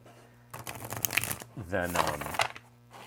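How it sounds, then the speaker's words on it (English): A Red Feather tarot deck from The Awakening Tarot is shuffled up close, giving two bursts of crisp riffling card flutter with a soft pause between them. "I really could just sit here and shuffle this all day because it's so weird having a deck from Red Feather that shuffles like any normal deck."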